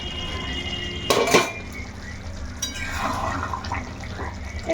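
A metal lid clatters down onto a pot of simmering chicken gravy with potatoes, one loud close clang followed by a softer rattle and a faint watery background hiss.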